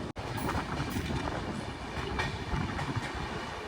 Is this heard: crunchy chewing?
no